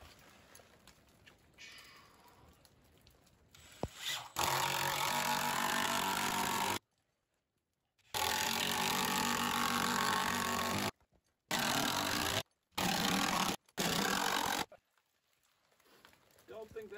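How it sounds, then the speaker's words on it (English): A power tool drives 10-inch screws in a cabin, giving loud, close whirring bursts of a few seconds each, separated by short silences. "So I'm putting these 10-inch screws through now."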